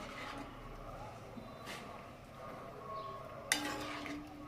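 Ground masala paste being stirred into a simmering cluster bean gravy: soft scraping and gentle bubbling with a couple of faint utensil taps, then a sharp clink of a spoon against the pot near the end.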